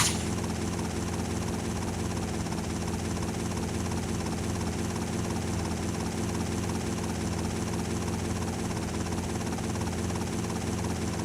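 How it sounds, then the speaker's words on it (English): Helicopter in the video game Grand Theft Auto: Vice City Stories, giving a continuous dense rotor-and-engine roar that holds steady and close throughout, with no speech. "This is how you crash the helicopter."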